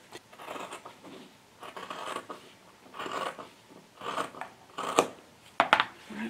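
Scissors snip through fabric in bursts of sharp, close cuts while sewing a pincushion, with no talking.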